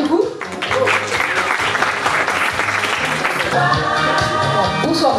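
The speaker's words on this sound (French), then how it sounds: "Je vous propose de l'applaudir du coup." An audience in a television studio applauds the evening's guest, Étienne de Rivoire, with a dense burst of clapping that fills the stretch while a voice speaks over it.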